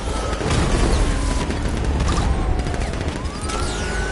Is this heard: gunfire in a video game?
yes